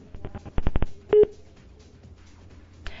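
After a caller hangs up, a telephone line gives a quick burst of short beeping tones followed by a brief longer tone, then goes mostly quiet with faint line hiss.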